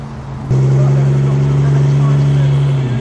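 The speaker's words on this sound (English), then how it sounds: "That's one smooth engine, that is. I think the straight six inlet over exhaust engines you get in these, it's the most over-engineered engine of the period." A Rover car's straight-six inlet-over-exhaust engine runs steadily, a smooth, loud, even hum that starts abruptly and holds without revving, close by at a classic car gathering.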